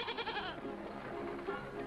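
A goat bleats once, a short wavering nasal cry up close, then fades into quiet room ambience.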